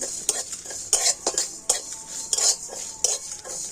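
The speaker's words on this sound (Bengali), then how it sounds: "এবার আমি এই সমস্ত মশলাগুলো কড়াতে দিয়ে দিচ্ছি তো মশলাগুলো আমি একটু হালকা করে ভেজে নেব" Spices are stirred while lightly frying in a wok for raw mango pickle, with a metal spoon repeatedly scraping and clinking against the pan over a soft sizzle.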